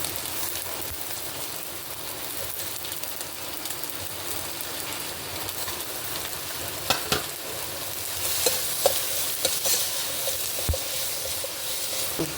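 Tomato is stirred and fried in a kadai pan for a vegetable kadai dish, giving a continuous close sizzle with scraping stir strokes and a few louder clicks. No one speaks.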